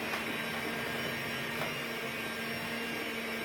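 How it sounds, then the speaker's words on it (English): An electric mixer blends cake batter at slow speed in a home kitchen, giving a steady, even motor whir that runs unbroken and fairly close, with no talking over it. "you may start to mix the mixture using your electric mixer so that it's smoother"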